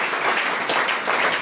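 Congregation in a church applauding during a prayer-week closing service, a dense, steady wash of many hands clapping at once, loud and close, with no talk over it.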